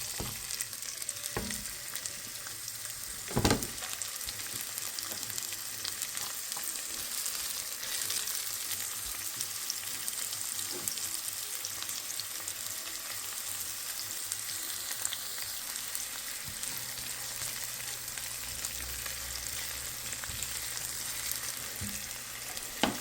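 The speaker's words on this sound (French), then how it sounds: "Je commence à ajouter des oignons dans" Chopped red onion sizzles steadily in hot oil with a pinch of salt, a continuous close frying hiss broken by a few sharp stirring knocks and clatters.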